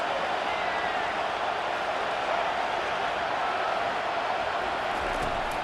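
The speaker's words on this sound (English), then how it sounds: "Listen to the crowd energy here in the early going." A college football stadium crowd fills the air with a constant, dense roar at the Washington vs. Penn State game. The noise holds at a steady level throughout and sounds like it comes from a large distant mass of spectators.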